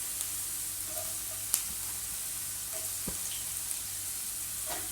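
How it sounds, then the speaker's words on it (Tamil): Capsicum and vegetable pieces frying in hot oil for sweet corn fried rice, giving a steady, even sizzle with a few faint clinks and stirring scrapes, no voices over it. "குடமிளகாய் பார்த்திங்கன்னா உடனே வதங்கிடும்."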